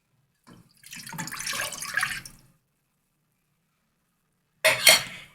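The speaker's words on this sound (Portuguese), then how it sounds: "Aqui na minha panela, eu vou colocar a água." Water pours into a cooking pot in two bursts, a longer splashing stream followed by a short one after a pause.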